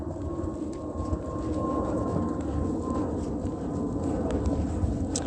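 A steady, droning roar of an airplane passing overhead, broad and even throughout with no clear rise or fade, heard alone without speech.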